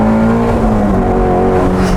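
Ford Shelby GT350R on a race track, its engine pulling hard under acceleration out of a corner, a loud, steady, rising mechanical roar held close for the whole stretch.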